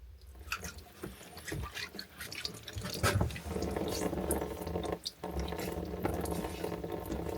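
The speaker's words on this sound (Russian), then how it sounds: "Вода в рукомойнике оттаяла." Water running and splashing from a thawed washstand in a frozen underground dugout house, a steady close trickle with irregular splashes and drips, no voices.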